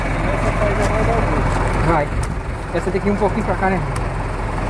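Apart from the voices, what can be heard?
tractor engine running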